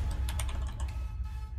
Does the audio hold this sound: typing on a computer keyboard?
yes